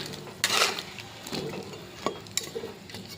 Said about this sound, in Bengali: এবার নেড়ে দিলাম